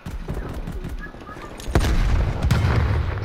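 In a Call of Duty Black Ops Cold War team deathmatch, rapid gunfire crackles before a grenade blast lands midway with a loud sharp boom, followed by continued shots and rumble, with voices talking underneath.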